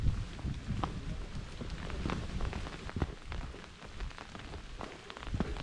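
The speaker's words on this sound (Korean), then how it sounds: "이제 비가 오기 시작합니다." Rain beginning to fall on a forested mountain hiking trail along a ridge, heard as a steady soft patter of drops with scattered louder taps, no talking.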